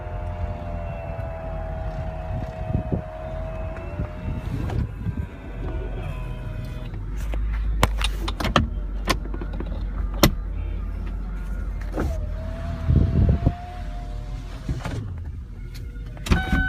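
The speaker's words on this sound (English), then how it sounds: "Go ahead and put the top up for you guys to show that it works absolutely perfect." Power convertible top of a 2002 Ford Thunderbird raising, an electric motor whine that starts and stops in stages, with clicks and mechanical clunks as the top latches, heard close over quiet background.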